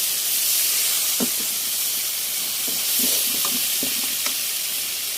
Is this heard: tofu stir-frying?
yes